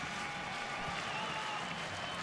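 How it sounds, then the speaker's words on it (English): A hometown baseball crowd in Cleveland gives a player a warm hand in a 2012 game against the White Sox, a dense, distant wash of applause with no clear voices. "Travis Hafner with a nice hand from the hometown crowd here"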